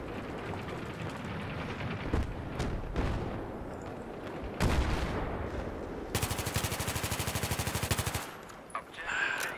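Battlefield 3 gunfire: a dense, continuous wash of distant shots and blasts, then a loud, rapid burst of automatic fire lasting about two seconds, followed by a few scattered cracks. No one speaks.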